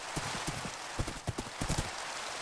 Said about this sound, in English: This horse is pretty fast.